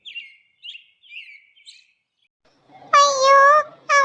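An injured sparrow gives a few short, thin chirps, faint and spaced apart, before a high, drawn-out cry breaks in, followed by a brief second cry.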